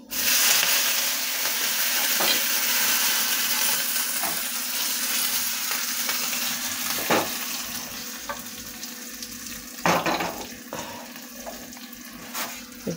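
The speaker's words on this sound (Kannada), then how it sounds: "ಈಗ ನಾನು ಒಗ್ಗರಣೆ ಹಾಕ್ಕೊಂಡಿದ್ದಲ್ಲ ಅದನ್ನು ಹಾಕ್ತಾ ಇದ್ದೀನಿ" Dried red chilli and curry leaves tempering being poured into majjige huli, a buttermilk curry, with a steady hiss and sizzle, clattering utensil knocks and sharp splashes, no talking.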